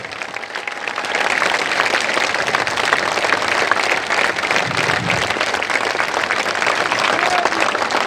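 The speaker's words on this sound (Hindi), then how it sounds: "ताली जोर से ताली बजाइए" A large crowd at a Jan Suraaj political gathering breaks into loud, dense, sustained applause that swells within the first second and holds at full strength, a continuous roar of many hands.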